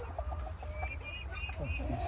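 Chickens in a coop on a farm give soft, scattered clucks and short calls over a steady background hum and a high-pitched whine, with no clear voices.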